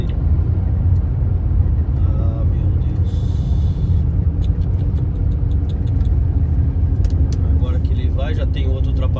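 Vehicles on the BR-153 highway in Brazil heard from inside a moving vehicle, a steady loud road rumble and engine drone with small rattles and clicks, while people talk over it.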